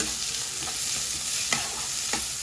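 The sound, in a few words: curry leaves and green chillies sautéing in a pan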